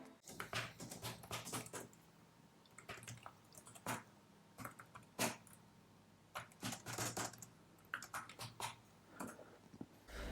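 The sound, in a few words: typing on a quiet Bluetooth keyboard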